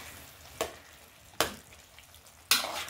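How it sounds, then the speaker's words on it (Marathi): Beetroot, carrot, potato, cauliflower and green peas sautéing in hot oil for pav bhaji make a faint, steady sizzle, broken by three sharp scraping stirs. "असं मस्त पा बीट, गाजर, बटाटा, फ्लावर, हिरवा वाटाणा असं मस्त टाकले, मस्त परतून घेणार"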